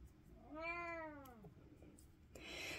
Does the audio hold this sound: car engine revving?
no